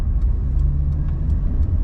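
Steady road traffic in Kuwait, a continuous low engine rumble of cars passing at moderate loudness with no talk over it.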